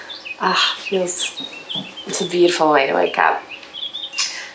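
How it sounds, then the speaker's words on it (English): Morning birdsong from trees along the Camino Francés near Roncesvalles, bright chirps and tweets scattered throughout, heard close while a person speaks over them. "I don't know if you can hear the birds chirping."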